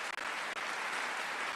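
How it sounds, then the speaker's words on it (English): Steady applause plays as a cheer for a livestream's chat crew, a dense uniform clapping wash with a couple of brief dips near the start and no distinct air horn. "let's get the applause and the air horns going for the chat crew today"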